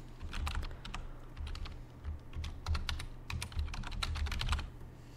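An email address being typed on a computer keyboard: quick, close clicking keystrokes in uneven bursts over a few seconds, quiet and with no voices.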